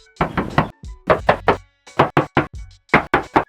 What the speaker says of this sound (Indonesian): Untuk bagian samping, sekarang aku coba tes ketok.